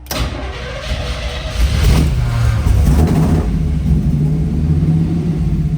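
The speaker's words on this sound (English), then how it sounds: "Let's go ahead and fire this car up." A 1950 Ford F-1 truck engine with headers and MagnaFlow mufflers cranks and fires up, then settles into a loud, deep, rough idle with a few revs, close to the listener.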